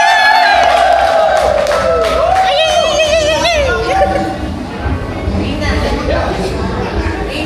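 A loud crowd at a year-end party cheers and shouts continuously, with high whoops and yells rising over a dense roar of voices.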